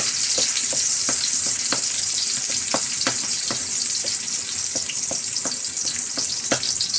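Garlic and onion sizzle steadily in a hot pan, a continuous bright frying hiss broken by repeated scraping and stirring clicks from a utensil, close and fairly loud with no talking.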